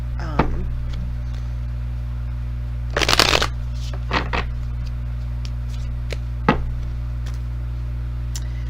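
Tarot cards shuffled in a brief, crisp riffle, then a few lighter flicks and snaps as cards are drawn, close up over a steady low electrical hum.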